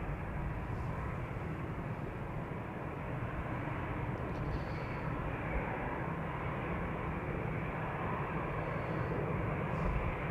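A Nippon Cargo Boeing 747-8 freighter departs from the Polderbaan runway at Amsterdam Schiphol, its four engines a loud, continuous, rumbling roar that holds throughout.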